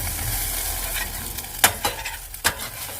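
Sausages fry in a pan with a steady, close sizzle. Several sharp clinks and scrapes from a utensil against the pan break in toward the end, and nobody speaks.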